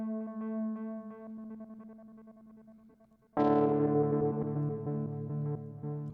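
Guitar tone run through a pedal's panning tremolo in square-wave mode, bouncing between left and right channels; a quiet sustained chord fades before a louder, fuller strum rings out near the end.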